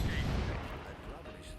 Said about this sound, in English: The explosions look good.